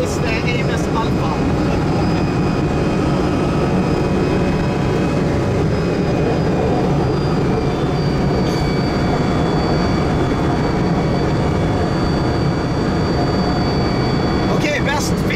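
A Bugatti Veyron Vitesse races a Koenigsegg Agera R at high speed, with a loud, steady roar of wind and engine filling the whole stretch and a few brief clicks at the start and end.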